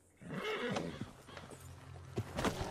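A horse in the Red Dead Redemption 2 video game neighs and snorts near the listener, with a few hoof clops between the calls and no talking.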